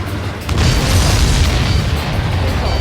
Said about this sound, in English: Did you see that explosion? Looks like that's one of them down.